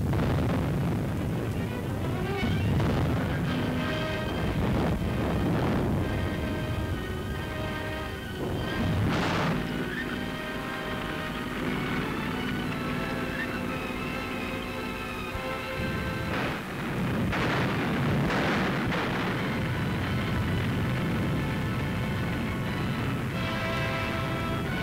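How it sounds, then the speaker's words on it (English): Captured German artillery guns firing in 1945 wartime newsreel footage, heavy booms and rumbling blasts recurring through dense, continuous battlefield noise and musical score. "The Germans' own guns, captured, were now turned against them."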